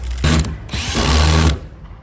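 A power drill or screwdriver drives screws while assembling a minimalist kitchen cabinet, two loud bursts of whirring motor, the second longer, separated by a short pause.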